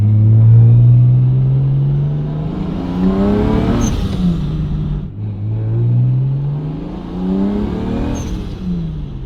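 A single-turbo BMW 335i engine revs hard through the gears twice, pitch climbing steadily with each pull before a brief shift, loud and close with rumbling exhaust.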